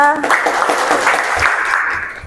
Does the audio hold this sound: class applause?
yes